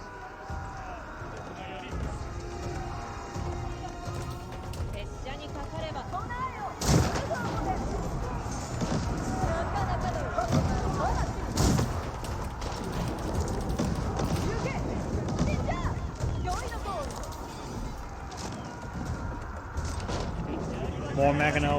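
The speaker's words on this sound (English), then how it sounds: "More Mangonel barrages there." Mangonel siege barrages in an Age of Empires 4 battle, with repeated thumping impacts and clatter amid busy combat noise, heard under continuous commentary.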